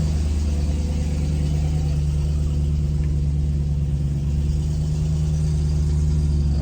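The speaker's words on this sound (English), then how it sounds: "I'm gonna just pull her out of the garage, let her idle a little bit here" A 2010 BMW E92 M3 with a six-speed manual idles steadily after a cold start, a loud, continuous low engine rumble with an even hum and no talking.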